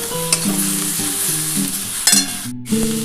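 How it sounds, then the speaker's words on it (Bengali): Cauliflower stems and potato, seasoned with salt, turmeric and a little sugar, stirred and frying in oil for a vegetarian posto dish. A steady sizzle with scraping stir sounds, accompanied by tonal background music. "দেখো কপি ডাঁটার সাথে আলুটা নুন হলুদ আর অল্প একটু চিনি দিয়ে ভাজা ভাজা হয়ে গেছে।"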